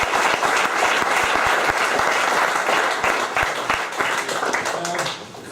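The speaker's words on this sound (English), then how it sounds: "Give him a big round of applause." An audience at a fight tournament weigh-in conference gives a sustained round of applause, dense clapping filling the room before tapering off at the end.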